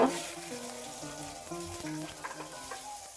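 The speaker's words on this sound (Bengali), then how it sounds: "এখন আমি রসুনের কুয়াগুলো ভেজে নেব" Garlic cloves fry in oil with a steady, close sizzle and soft bubbling crackle, holding an even level for the whole stretch, with a faint tonal hum beneath.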